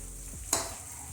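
Chopped tomatoes and spices, including Kashmiri red chilli, coriander powder and garam masala, sizzle and fry in a pan for a tinda sabzi, with a steady hiss and one sharp scraping stir midway.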